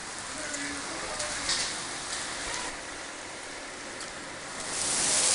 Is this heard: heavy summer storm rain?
yes